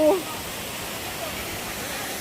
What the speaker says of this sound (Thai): น้ำตกพริ้วค่ะ สวยสวยค่ะ ข้างบน ตกมาจากที่สูงสูง